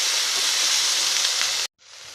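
Pav bhaji vegetable mixture sautéing in a pan, a steady close sizzle and hiss that cuts off abruptly near the end, followed by fainter sizzling.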